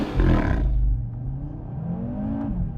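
An Audi RS3 launches on a snow-covered rally course, its engine roaring loudly up through the revs with a strained wheelspin whine, then easing into a lower sustained drone.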